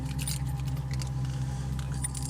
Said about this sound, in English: Just pass us the keys.